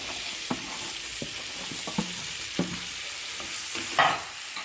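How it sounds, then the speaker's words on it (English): Capsicum and baby corn stir-fried in butter give off a steady soft sizzle, broken by occasional clicks and scrapes of a spatula stirring through the pan. "Now I'm going to stir fry some capsicum and baby corn."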